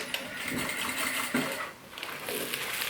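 Sewing machine running steadily as it stitches close along the edge of a lined thermal bag, a continuous close mechanical whir with slight variations in pace.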